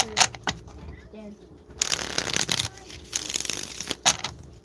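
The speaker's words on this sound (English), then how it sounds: "Gotta shuffle the cards." Tarot cards being shuffled by hand in bursts of crisp riffling and flapping, with short pauses between, close by, while people talk intermittently.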